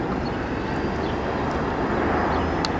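A United Boeing 737-900 airliner coming in to land, a steady broadband roar of jet engines and rushing air filling the scene at close range without letup.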